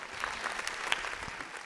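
Short burst of studio audience applause on a quiz show, a dense patter of clapping hands at moderate distance lasting under two seconds.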